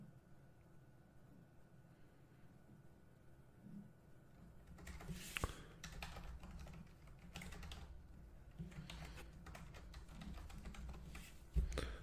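Typing a password on a computer keyboard: quiet room tone, then from about five seconds a run of close, soft key clicks in quick irregular bursts, faint overall.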